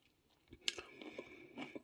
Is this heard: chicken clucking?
no